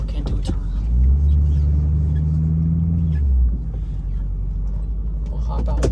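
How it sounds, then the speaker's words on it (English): A truck engine rumbles low and steady as it drives and turns at a roundabout, with sharp knocks and clatter around it and a brief swell in the engine note partway through. "and this truck can't do a turn."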